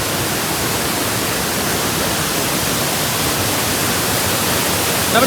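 A waterfall at a hidden spot near Kakkayam gives a steady, dense roar of falling water that stays even and fairly loud throughout, with no voices.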